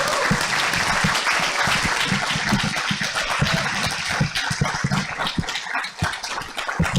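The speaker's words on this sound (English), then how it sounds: "we give a second round of applause to Lara that did the video" A second round of applause at a university graduation ceremony, with sustained, lively clapping from the assembled audience throughout, the individual hand claps sharp and close.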